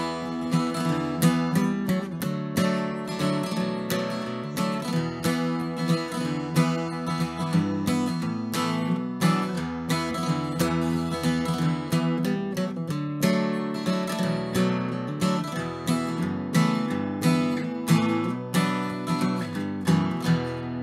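Strummed guitar chords accompanying the second part of Cooley's Reel, a steady rhythmic pattern of crisp strokes with regular accents, continuous for about twenty seconds at moderate volume without speech.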